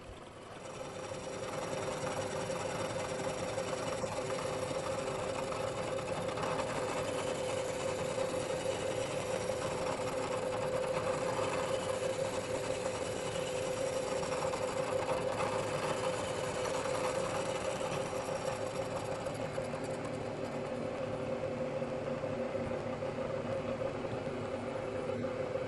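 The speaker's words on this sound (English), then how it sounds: "the face mill can go ahead and finish off the inside of the table" A milling machine's face mill cutting across a metal table, a long steady whining hum with a faint tonal drone, moderately quiet and unbroken, with no talking.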